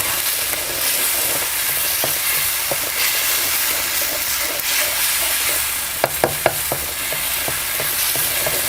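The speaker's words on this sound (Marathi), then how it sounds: "मस्त आपला मसाला तयार होतो पटकन एकजीव होते आणि परतला जातो पटकन" Masala paste with grated ingredients sautéing in a pan for paneer masala, a steady close sizzle throughout with a few sharp spatula scrapes near the end, no voices.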